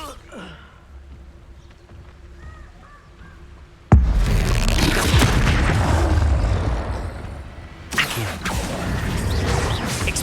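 Expulso explosion spell cast in Hogwarts Legacy: after a quiet stretch a sudden loud blast erupts, followed by a roaring, crackling rumble, then a second burst near the end, with game sounds underneath.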